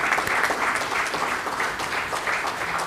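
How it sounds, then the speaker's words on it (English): An audience at an awards distribution ceremony claps for the judges, a dense sustained applause of many hands heard from within the crowd. "So I think they need a round of applause."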